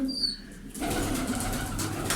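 Home-bred tumbler pigeons flap and stir close by, a burst of wingbeats and rustling starting abruptly after a short quiet opening and continuing steadily, with a possible soft coo.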